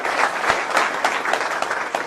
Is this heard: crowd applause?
yes